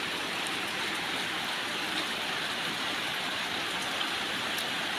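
Steady rain falls in a constant, even hiss, dense and unbroken throughout with no voices.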